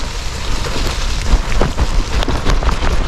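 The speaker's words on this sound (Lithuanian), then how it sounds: "Lietus darėsi vis stipresnis ir stipresnis" Rain beats down steadily during a bicycle ride on a gravel road, a loud, close, dense patter with irregular thumps and gusts, no voices.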